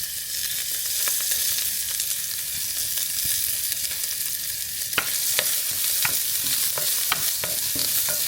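Ginger and garlic sautéing in hot oil for a Kottayam-style fish curry, a steady close sizzle with scattered sharp pops and clicks of stirring, no voices.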